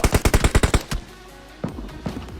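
A rapid burst of about eight loud, evenly spaced gunshots in PUBG Mobile, from an M249, followed by quieter scattered shots and rustling.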